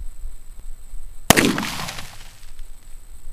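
A single sharp .45 ACP handgun shot strikes a cinder block outdoors, one loud crack followed by a brief ringing decay, then quiet background.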